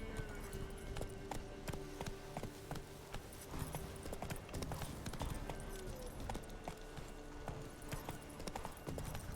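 Roach the horse from The Witcher 3 clip-clops steadily through the whole stretch, the hooves close and rhythmic over game music and ambience, with a few brief voice sounds.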